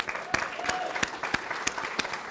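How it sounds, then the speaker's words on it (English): A training-event audience claps for the speakers, a thin scattering of distinct handclaps with sharp individual strikes over a soft background wash, brief and moderately close. "Let's give the speakers another round of applause."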